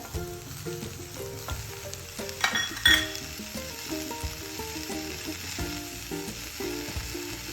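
Grated carrot and frozen peas fry in a pan with a steady, close sizzle and occasional stirring clatter, a brief louder burst near the middle, over a faint tonal background.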